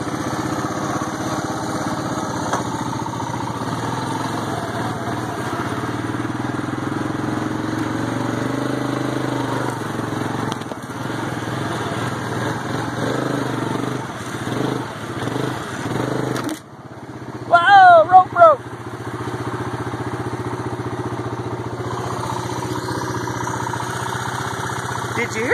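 A stuck golf cart's engine idles and runs with a steady drone, close and continuous, briefly dipping and surging in the middle before settling back to a constant hum.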